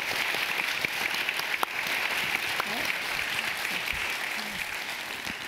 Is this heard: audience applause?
yes